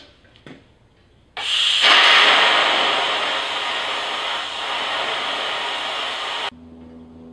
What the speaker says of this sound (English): Just using a cutting wheel on a grinder.